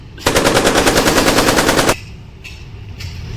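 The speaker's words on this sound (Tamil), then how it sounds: "இது வந்து கன் துப்பாக்கி" A pen-shaped toy gun fires a loud, rapid burst of electronic machine-gun rattle lasting under two seconds, then cuts off abruptly, leaving quiet room noise with a couple of faint clicks.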